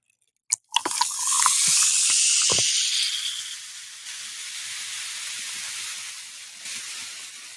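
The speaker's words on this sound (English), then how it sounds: "the pop, crack, fizzle of a soda" A soda bottle cap cracks open with a sharp pop, then the drink pours out in a loud, bright fizzing hiss that gradually settles into a softer, steady carbonated crackle.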